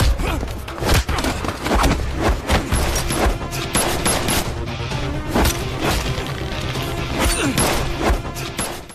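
Gunfire in a brutal fight scene between a former special-forces fighter and mafia men, loud, dense bursts of shots mixed with crashes and thuds running throughout, with a steady score-like bed underneath.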